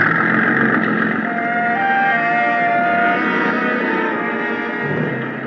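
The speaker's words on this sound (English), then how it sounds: "The big gas engine took over where the wind dropped us, and Captain Granger stood at his wheel" A big gas engine on a sailing boat at sea drones steadily and loudly throughout, a continuous low rumble with a humming tone layered on top, no voices over it.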